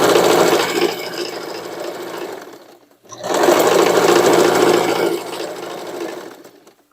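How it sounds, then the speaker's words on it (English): Loud, close sewing machine stitching decorative lines on denim from old jeans, running in two sustained bursts separated by a brief stop. "Just a normal decorative stitching like this."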